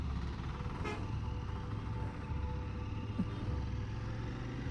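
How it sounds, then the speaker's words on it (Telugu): Stuck in a city traffic jam beside a motorcycle, a steady roar of engines and road noise fills the air while a car horn toots briefly in the mix. "12 to 15 minutes అయింది ఈ ట్రాఫిక్ జామ్లో ఇరుక్కొని."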